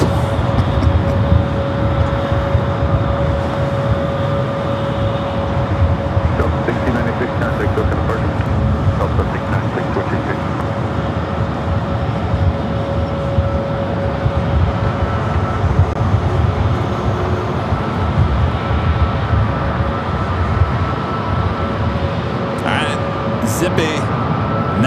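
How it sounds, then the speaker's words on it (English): A Boeing 787-8 Dreamliner rolls for takeoff on runway 24 Left at LAX, a steady, dense roar of jet engines running loud and continuous throughout, with a constant whine on top and people talking over it. "Zippy now is zipping down at 24 left. Again, heading back to Tokyo Narita, the 787-8 Dreamliner."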